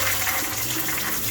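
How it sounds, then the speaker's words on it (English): Tap water runs steadily and close as dried beans, soaked overnight, are rinsed in a colander in a home kitchen; a continuous hissing rush with no voices. "I'm going to rinse these beans real quickly"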